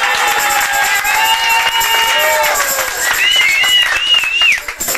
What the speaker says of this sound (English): Alright, clap again because he didn't get it the first time.